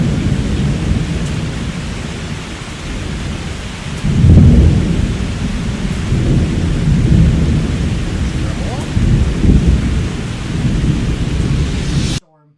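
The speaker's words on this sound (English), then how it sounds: "I love the sound of storms." A thunderstorm with steady heavy rain and repeated deep rolls of thunder, the loudest swelling around the middle, a continuous dense wash of downpour throughout before cutting off abruptly at the end.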